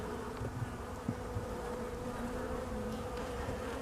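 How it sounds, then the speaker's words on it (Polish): Honeybees buzzing inside a hive during winter, a steady low drone with a few brief louder bursts close by, alone without talk. "Zobaczymy, ile tych pszczółek zostało na dzień dzisiejszy."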